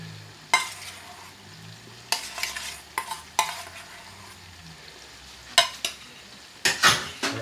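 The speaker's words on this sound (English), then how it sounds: "So let's give that a stir" A spoon stirs fried onion paste in a pan of Indian base gravy spiced with ratanjot, with a soft continuous sizzle broken by several sharp scraping clinks against the pan.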